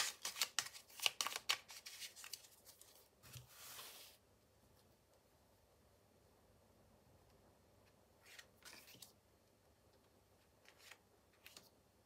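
Tarot cards are shuffled and laid out on a table, with a quick burst of crisp card riffling and snaps, a brief swish, then quiet with a few faint card slides near the end.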